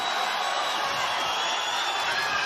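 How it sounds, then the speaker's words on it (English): A boxing arena crowd rises in support of Edgar Berlanga during the final round of his fight with Steve Rolls, a dense, steady roar of cheering voices with no breaks. "As the crowd rises out of their seats for 3 minutes of support for Edgar Berlanga"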